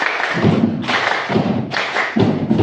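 A classroom of students clapping together in a counted pattern, with crisp group claps landing in a steady, quick rhythm of short bursts at close range.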